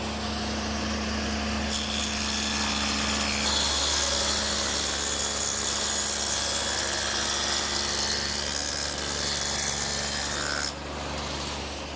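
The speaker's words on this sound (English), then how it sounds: "I've set up the saw with the dado head cutter again" A table saw fitted with a dado head cutter runs with a steady hum, then bites into wood with a sustained, loud abrasive cutting rasp for several seconds before dropping back to the idle whir.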